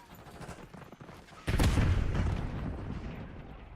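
A frag grenade goes off in a Call of Duty Black Ops 6 match with a sudden loud blast, followed by a sustained roar of gunfire and rumbling after earlier scattered shots.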